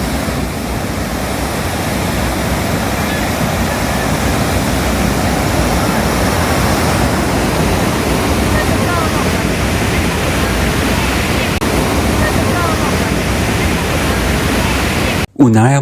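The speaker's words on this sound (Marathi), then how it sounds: "हा धबधबा जर्मनी आणि स्वित्झर्लंडच्या बॉर्डर जवळ येतो" A waterfall fed by Swiss mountain snowmelt, near the German-Swiss border, roars with a loud, steady broadband rush that holds unchanged throughout before cutting off abruptly at the very end.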